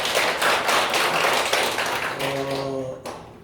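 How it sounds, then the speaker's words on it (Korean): An audience claps at a church discussion forum, a dense patter of many hands that thins out after a couple of seconds and trails off with a few faint tones beneath it. "큰 박수 부탁드리겠습니다."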